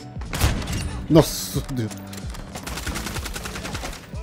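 Sniper rifle gunfire in a video game: a burst of loud shots and a sharp crack with mechanical clatter, under excited talk from a player.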